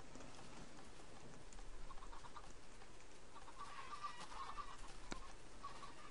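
Chickens cluck softly in Minecraft with the Future Craft mod, scattered faint fowl calls over a dense hissing background like rain, no one speaking.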